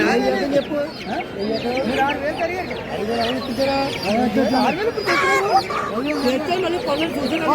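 Native country roosters and hens at the busy weekly rural fowl market in Timiram cluck and call repeatedly, loud and close, over a constant crowd murmur with people talking throughout.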